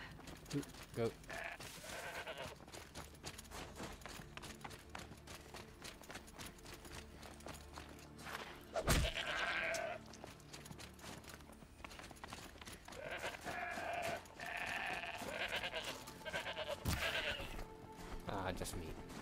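A goat bleats in Horizon Zero Dawn, several short bleats rising over steady game ambience and footsteps, with a person talking in between.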